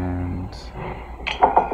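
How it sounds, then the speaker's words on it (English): A drinking glass set down, heard as a brief bright clink followed by a couple of light knocks against a surface near the end, close and moderately loud after a quiet stretch with faint low hum. "put the glass down, open the water bottle."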